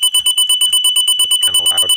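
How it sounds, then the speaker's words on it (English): A liquid level sensor alarm triggered by a dropping float sounds a loud, shrill electronic beep repeating rapidly and evenly, about eight pulses a second, with a brief low muffled noise under the last beeps. "If the level were to drop and this float were to go down, the alarm sounds."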